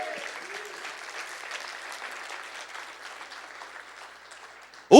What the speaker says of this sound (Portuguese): Dá um aplauso bem forte a Jesus.